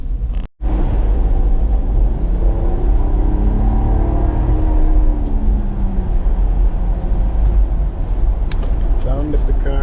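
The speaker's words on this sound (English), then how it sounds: "Sound of the car is nice." A petrol Ineos Grenadier's engine drones steadily from inside the cabin while driving, a loud low rumble with road noise. A person talks over it.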